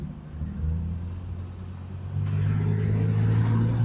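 A car engine with an out-of-tune but working carburettor idles in a steady low rumble, growing louder and heavier about halfway through as the revs rise.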